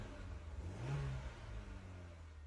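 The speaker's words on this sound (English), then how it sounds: "Here's what my stock exhaust sounds like." A four-cylinder car with its stock exhaust revs once, a quiet, fairly faint engine rising to a brief peak and settling back to idle, the exhaust note staying subdued and muffled.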